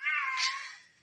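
A cat gives a single drawn-out meow, close and clear, that rises slightly and then fades away, heard on its own.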